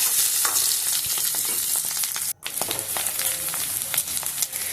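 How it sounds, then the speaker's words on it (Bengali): Boiled, lightly salted potatoes frying in a pan until reddish, a bright close sizzle with frequent stirring scrapes and a brief silent break midway. "আলুটাকে একটু লাল লাল করে ভেজে নেব"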